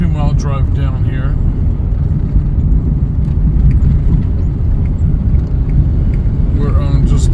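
A car rolls down a poorly maintained Forest Service road near Takhlakh Lake, giving a steady loud engine and road rumble with no breaks, and voices talk briefly over it at the start and end.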